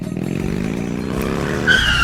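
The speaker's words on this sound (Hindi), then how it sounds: "सूरज ने उसे देख कार के ब्रेक लगाए" A car brakes hard with a loud, sustained tire skid over a droning engine, and a sharp squeal rises near the end.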